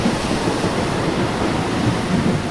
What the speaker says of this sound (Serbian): ogromni talasi su počeli da se obrušavaju na brodove